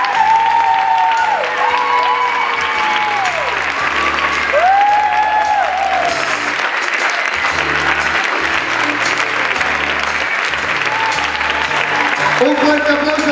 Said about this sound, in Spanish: Y por último, un aplauso para Paz and Company.